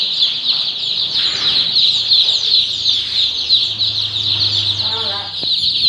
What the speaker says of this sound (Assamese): আমাৰ যিখিনি লোকেল মুৰ্গীৰ পোৱালি আছে সেইখিনি কিমান সুস্থ সবল আৰু ভাল কোৱালিটিৰ।